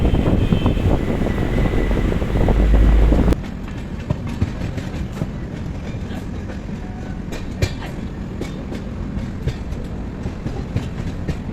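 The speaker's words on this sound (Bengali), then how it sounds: "এখন দেখতে পাচ্ছ আমাদের ইন্ডিয়ান রেলওয়েজের তেজাস রাজধানী এক্সপ্রেস সে এখন স্টেশনে ঢুকছে" An Indian Railways Tejas Rajdhani Express pulls into a station with a loud, dense rumble and wind buffeting at first, then a steadier rolling clatter of wheels over rail joints with sharp metallic clicks, no voices.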